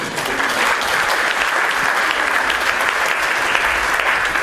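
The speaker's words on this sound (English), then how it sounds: "I think CPG Grey deserves a round of applause." Sustained audience applause at an education talk, a loud, even roar of many hands clapping throughout, close and continuous without pauses or voices.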